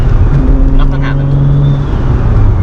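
1995 single-turbo Toyota Supra accelerating flat out, a loud, steady engine drone heard from inside the car, with a rising tone underneath and brief voices mixed into the noise.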